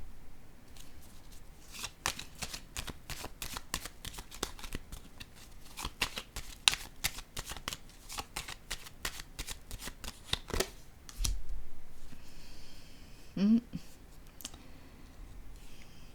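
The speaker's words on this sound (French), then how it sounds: "Je vais déposer une autre carte ici." Tarot cards are shuffled and laid out one by one, producing a rapid run of crisp, close clicks and snaps that thin out into softer handling noises toward the end.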